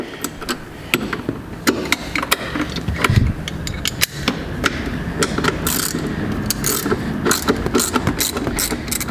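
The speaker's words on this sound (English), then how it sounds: "Now we could switch over to a ratchet." Ratchet wrench loosening the seat bolts on an Acura NSX leather seat, a fast clicking pawl sound in quick repeated bursts with short pauses, close and fairly loud, with no talking.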